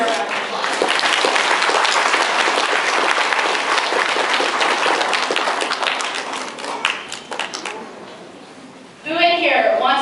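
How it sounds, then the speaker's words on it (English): An audience at a parenting seminar claps for the presenter, a dense burst of applause that fills the room for about eight seconds and then fades, after which a voice starts speaking. "Let's give her a round of applause."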